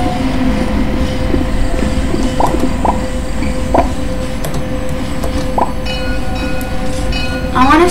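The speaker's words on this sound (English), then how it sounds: "I wanna steal the train" A train rumbles along in the Roblox game Mad City, a continuous rolling clatter with several short horn-like tonal blips and a brighter squeal near the end.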